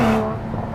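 Mercedes GLE 53 AMG engine: a short burst of loud, steady engine drone with a tonal hum that fades slightly after a fraction of a second, close and without voices.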